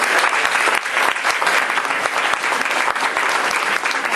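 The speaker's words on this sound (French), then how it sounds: "Sous vos applaudissements." Steady, dense applause from a lecture audience fills the whole stretch, many hands clapping at an even, sustained level with no voices rising above it.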